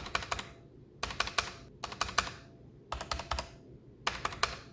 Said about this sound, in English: there is quite a bit of ping in these keys